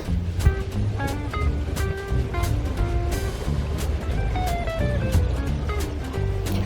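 Vaporetto water bus travelling through Venice toward San Marco, a steady rumble of engine and water wash with repeated tonal horn-like notes and scattered clanks, fairly loud and close.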